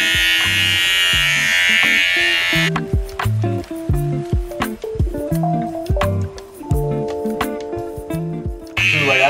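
A Skull Shaver Pitbull Silver Pro electric shaver buzzes loudly and steadily for a few seconds, cuts out abruptly, then whirs back briefly at the end, with a thumping rhythmic beat filling the gap.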